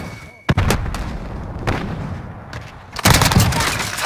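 Frag grenade blast and gunfire in a Call of Duty Modern Warfare Team Deathmatch match: a sharp close boom, then scattered shots and a heavier burst of rapid gunfire toward the end.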